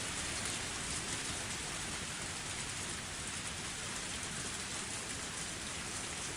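Steady, heavy rainfall in a video game pours continuously, a dense hiss of drops hitting surfaces without letup and no voices.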